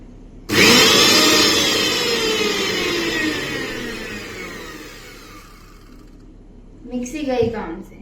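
A mixer grinder starts abruptly with a loud whirring roar, its pitch sagging as the motor labours and slowly winds down over several seconds. A voice comes in near the end.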